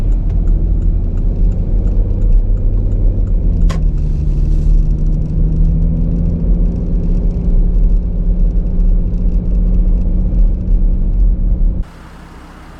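A vehicle, apparently an RV, cruises along a road through Shenandoah River State Park in Virginia, its steady low engine and road rumble continuous and close for most of the clip before dropping sharply quieter near the end.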